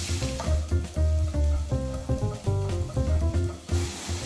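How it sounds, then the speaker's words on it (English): A spicy beef and asparagus base sautéing in a pan, with moderate sizzling and rubbing, scraping stir strokes over a steady low hum. "I'm gonna saute this for about a minute until it's nice and fragrant."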